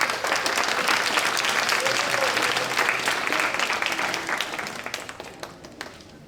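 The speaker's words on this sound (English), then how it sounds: "give a round of applause to Susanna" An audience at a district community meeting bursts into loud, sustained applause that gradually fades out, with faint voices mixed in beneath the clapping.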